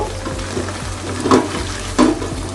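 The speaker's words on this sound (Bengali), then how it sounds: "এখন আমি প্যানটা এভাবে ঘুরিয়ে ঘুরিয়ে মাছটা আস্তে করে ভেজে নিব" Hilsa fish frying slowly in a pan that is gently swirled, Barisal style: a steady close sizzle and crackle with two brief louder bursts of spattering partway through, no voices.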